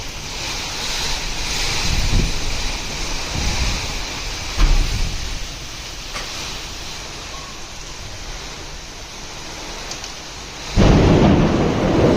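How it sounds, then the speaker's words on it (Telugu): Heavy rain pours steadily as a dense wash, broken by several deep rolls and cracks of thunder, one loud close clap near the end. "చూసారు కదా వర్షం ఎంతలా పడుతుందో."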